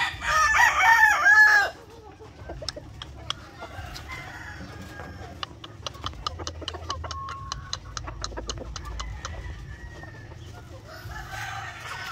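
An Asil gamecock rooster crows loudly and close by at the start. After that, a steady run of sharp ticking clicks and soft rustling fills the rest of the time, and no one speaks.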